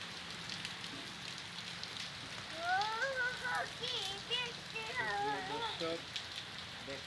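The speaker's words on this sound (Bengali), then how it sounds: "প্রচুর পরিমাণ এই যে দেখুন বৃষ্টি দেখুন" Steady heavy rain in Dhaka, Bangladesh, hisses loudly across the scene while a voice talks over it in the middle.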